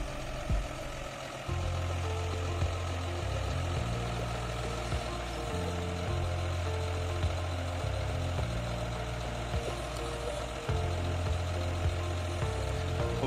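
A tractor hitched to a disc harrow idles with a steady low rumble and rhythmic knocking, the pitch shifting slightly a couple of times.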